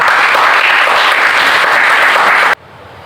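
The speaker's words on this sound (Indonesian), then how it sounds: "aplaus untuk Farhan." A room of students bursts into loud, sustained applause for a classmate, a dense wash of clapping that cuts off abruptly near the end, leaving quiet room tone.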